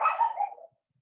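A pet dog gives a short, muffled bark and whimper indoors, a single faint vocal burst lasting under a second before silence.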